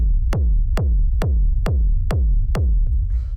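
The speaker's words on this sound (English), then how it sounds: "So this is a pretty standard rumble kick." Six evenly spaced techno rumble kick drum hits with deep, booming low-end tails that run into each other, followed by a brief faint noise at the end, loud and dry with no voices.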